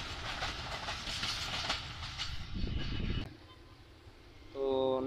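A high-speed train rushes past with a loud, broad roar and rolling rattle that cuts off abruptly. A quieter stretch follows, then a steady tonal blast near the end.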